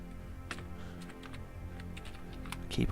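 Fast, uneven clatter of keys on a computer keyboard during desk work, with sharp clicks bunched into bursts over a low steady room hum, ending in a louder flurry.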